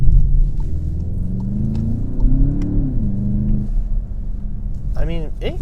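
A 2021 Volkswagen Jetta GLI pulling hard in second gear: a steady, close engine drone rising in pitch, with a voice talking over part of it.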